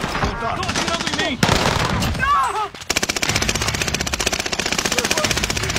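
Warzone video game gunfire, with rapid bursts of automatic fire, loud and close, ending in a long sustained rattling stream while a voice shouts over the first part.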